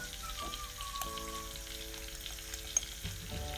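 Turmeric goes into potatoes frying in a pan for a spiced north Indian aloo sabji, with a steady close sizzle and a few soft stirring knocks and scrapes.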